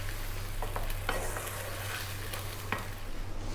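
Sausage pasta sauce bubbles gently in a pan over below-medium heat, a soft continuous sizzle with a few light stirring scrapes and clicks scattered across it, close and without speech.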